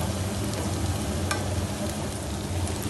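Dried prawns and tender tamarind leaves frying in a pan, a dense continuous sizzle close up with rough stirring scrapes and a brief sharp clink partway through.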